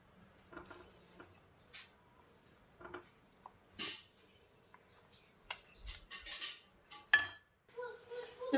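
Light clinks and scrapes of dishes and serving utensils as chana rice is spooned onto a plate in a home kitchen, scattered soft taps with brief pauses, fairly quiet.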